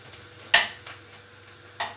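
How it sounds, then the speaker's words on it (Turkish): Quiet background sizzle of onions sautéing in butter in a pan, with a few scattered clinks and scrapes of stirring, one sharper knock near the start. "Güzelce şimdi soğanlarım güzelce soteleniyor."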